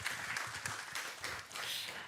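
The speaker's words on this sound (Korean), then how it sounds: "다시 한번 따뜻한 박수 부탁드리겠습니다" A symposium audience applauds steadily, a dense wash of many hands clapping at moderate volume throughout.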